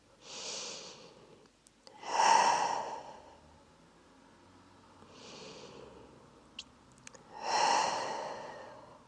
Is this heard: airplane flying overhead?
no